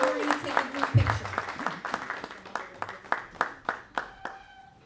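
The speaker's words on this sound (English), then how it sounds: "Another round of applause, please, for everybody." Round of applause from a small audience at a school reclassification ceremony, scattered hand claps building to a brisk rhythm and then thinning out, with a voice speaking over the start.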